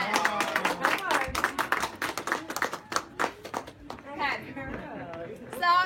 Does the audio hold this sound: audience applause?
yes